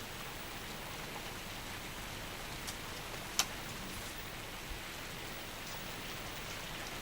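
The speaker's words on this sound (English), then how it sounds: "Looks like rain, eh?" Steady rain falls as an even wash of hiss with a few faint drip ticks, continuous throughout and without voices.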